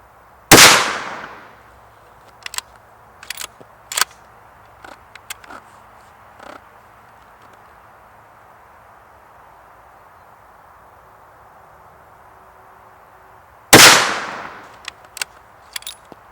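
Two loud, sharp rifle shots from a Savage 110 KLYM ultralight carbon-fibre rifle in 6.5 Creedmoor, roughly thirteen seconds apart, each with a quick decay, with faint clicks and handling noises between them.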